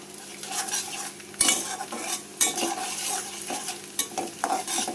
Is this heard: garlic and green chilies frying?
yes